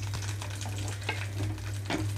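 Green chillies, four of them slit down the middle, fry in hot oil in a pan, giving a steady soft crackling sizzle with a few sharper pops and stirring scrapes, close and moderately quiet.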